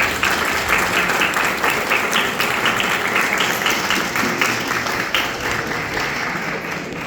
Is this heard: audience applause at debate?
yes